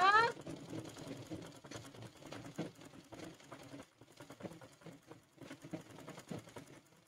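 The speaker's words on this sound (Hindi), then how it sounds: "ये हमने यहां से और यहां से दोनों तरफ से सिलाई कर ली है।" A domestic sewing machine stitches seams along both sides of a large fabric jumbo bag, its motor whirring in a steady rapid rhythm with brief pauses, fairly quiet and close.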